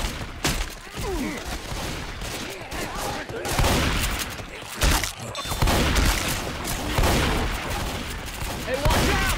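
Rapid shotgun blasts and surrounding gunfire ring out in a chaotic shooter video game, loud overlapping bursts across the whole stretch with game voices and chatter mixed in.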